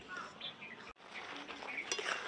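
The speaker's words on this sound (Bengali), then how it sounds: "মশলা ভালো করে কষানো হয়ে গেছে, এবার আলুগুলো দিয়ে দিচ্ছি ভেজে রাখা।" Fried potatoes go into spiced masala in a pan, giving a brief clatter of utensils and clinking against the cookware over a soft background sizzle.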